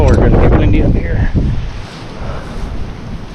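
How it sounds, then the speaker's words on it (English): Strong wind gusts buffet the microphone at the top of a tall tree with a storm and rain approaching, a loud roaring rush that eases after a couple of seconds, with a voice talking over it. "It's a little bit windy up here, y'all."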